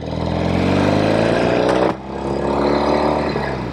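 A 1973 Norton 850 Commando motorcycle engine revving loud and close, a steady rising drone that cuts off sharply for a moment near the middle before picking back up and continuing strongly.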